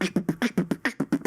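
Beatboxer repeating an inward K snare about ten times in quick, steady succession, each a short breathy sucked-in hit, close and fairly quiet, a voice imitating a snare drum.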